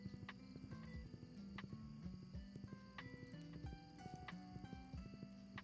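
Horse hooves clip-clop at a quick, even rhythm while riding in Stardew Valley, crisp repeated taps over light game music, with no voices.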